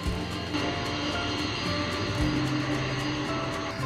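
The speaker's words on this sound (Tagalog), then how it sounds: "Ang isa pang sobrang laking eroplano ay ang Boeing 747 Dreamlifter." A Boeing 747 Dreamlifter cargo aircraft gives a steady, broad engine roar with a constant rushing hiss, heard at moderate distance and without voices.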